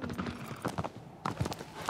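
Horse hooves clip-clop in the video game Shadow of the Colossus, a quiet uneven run of hoofbeats in short clusters with no voices over them.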